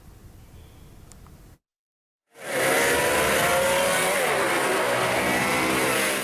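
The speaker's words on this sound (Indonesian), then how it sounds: "Aksi balap liar sepeda motor di ruas Jalan Raya TMII Makassar, Jakarta Timur meresahkan masyarakat" Illegal street motorcycle racing on Jalan Raya TMII in East Jakarta: after a short silence, loud engines roar and rev continuously nearby, a dense, sustained howl of several bikes.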